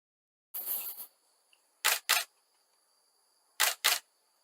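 A camera shutter fires three times: one slower drawn-out release, then two quick double clicks, close and crisp with quiet between.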